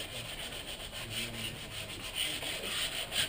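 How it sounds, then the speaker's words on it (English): A ski's kick zone sanded by hand with 180 grit sandpaper, heard as close, quiet rhythmic up-and-down rubbing strokes for a few seconds with no voices. "What you're going to want to do is sand this section up real well right here with about 180 grit sandpaper."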